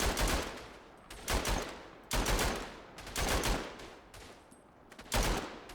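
Rapid machine-gun fire in the Verdun World War I shooter, loud sustained bursts of a few seconds each broken by short pauses, repeating through the stretch with no talking.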